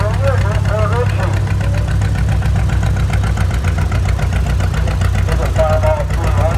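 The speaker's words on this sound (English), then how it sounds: "Here's a Farmall 300, 1955" A 1955 Farmall 300 tractor engine runs loud and close in a parade at a Florida flywheelers show, a steady low chugging idle with an even knocking pulse, while faint voices come and go over it.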